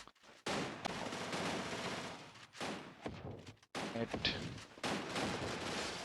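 Rapid MP40 submachine gun bursts in the Free Fire battle game during a tournament match, dense crackling fire in repeated stretches separated by brief gaps, with game effects mixed in.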